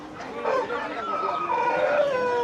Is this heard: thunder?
no